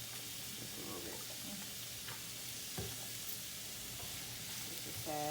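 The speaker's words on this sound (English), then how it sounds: "I'm gonna just stir this around until it gets nice and brown" Salmon pieces sizzle in hot oil in a pan with a steady, hissing fry, while a utensil stirs them and scrapes and taps against the pan now and then. No one speaks.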